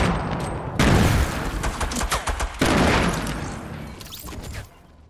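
Heavy gunfire in a Fortnite match, dense bursts of loud shots and booms that come in waves and tail off at the end.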